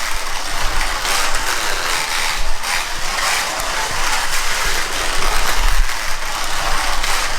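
A Ninco BMW E46 slot car runs laps on its track, giving a steady, close mechanical buzz and ratcheting gear whir that swells and eases slightly with throttle for several seconds, with no talking.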